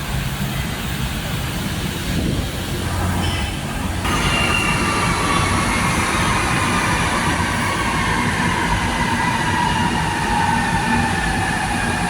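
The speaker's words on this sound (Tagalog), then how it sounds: "Ayan, nandito na yung train." MRT train pulling into GMA station on a Manila metro line, rumbling loud and close with rising wheel squeal and rail clatter over steady platform noise.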